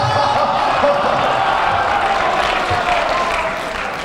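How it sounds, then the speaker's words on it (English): A convention panel crowd applauds and cheers for a player, loud, close and sustained, with voices mixed into the din. "Guys, give him a round of applause, she's a really awesome player"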